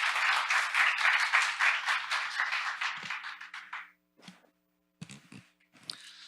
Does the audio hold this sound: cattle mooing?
no